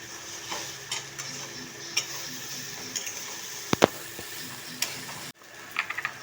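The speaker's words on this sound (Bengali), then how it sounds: "একটু খুন্তি দিয়ে মিশিয়ে নেব" A spatula stirs flattened rice with nuts, raisins, green chilli, salt and sugar in a pan, making rhythmic scraping and ticking strokes. One louder metallic clank comes partway through, then the sound cuts briefly before the scraping resumes. No one speaks.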